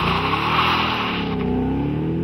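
A 2013 Ford Mustang GT V8 on a racetrack drones steadily at high revs, a sustained buzzing roar that shifts slightly in pitch as it drives.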